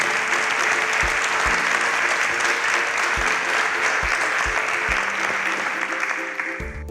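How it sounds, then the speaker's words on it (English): A studio audience at a televised innovation competition breaks into loud, continuous applause that holds steady throughout, with a few low thuds under the clapping and a slight fade at the end. "A round of applause for Team Jupiter."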